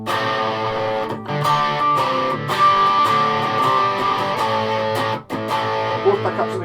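An Epiphone Casino Anthem electric guitar played with distortion through a DT5 amp, loud and close, chords ringing out in sustained strums with short breaks between phrases.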